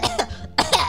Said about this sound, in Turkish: Evet ya, öksürük tuttu.